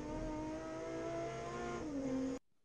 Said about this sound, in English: That S6 V6 screams all of the time throughout the lap